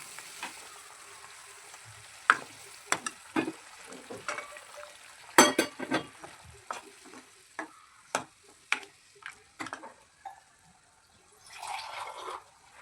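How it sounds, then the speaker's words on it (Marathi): Spicy Vam fish curry gravy bubbles and sizzles in a pan, with soft popping bursts and occasional sharper spatters, faint and close, with no talking. "भाजीला उकळी आलेली आहे"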